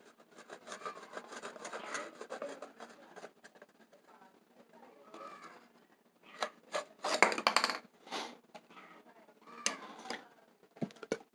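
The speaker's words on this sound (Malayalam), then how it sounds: "നമുക്ക് ഈ പ്ലാസ്റ്റിക്കിൻ്റെ ഈ ബോട്ടിൽ നമുക്കൊരു നീളത്തിൽ നമുക്ക് മുറിച്ചെടുക്കണം" A plastic bottle is cut lengthwise with soft scraping and crackling, quiet at first, then sharper bursts of crinkling and snapping plastic close by.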